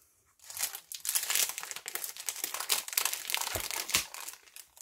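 Crinkly plastic packaging being opened around a Cartabella sticker pad, close, loud crackling and tearing that starts after a brief silence and continues in irregular bursts, with no talk.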